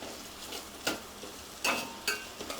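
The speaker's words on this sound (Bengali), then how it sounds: "এবার লঙ্কাটাও কিছুক্ষণ এর সাথে ভেজে নেব" Green chillies fry with onions in a home-kitchen pan, a faint sizzle underneath while a spatula scrapes and stirs in a few short, separate clacks.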